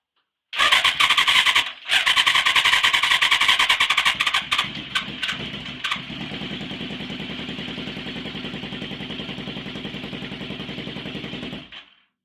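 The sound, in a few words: Yamaha FZR 1000 motorcycle engine starting and running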